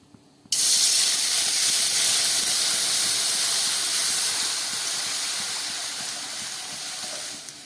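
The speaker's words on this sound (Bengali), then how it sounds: "এই জলটা গরম হোক তারপরে চালের গুঁড়ো দিয়ে তৈরি করব আমার গরম জলটা ফুটে উঠেছে" Water in a kadai greased with a drop or two of ghee heating toward a boil sends up a loud, steady steam hiss that starts abruptly and slowly fades, close and uninterrupted by talk.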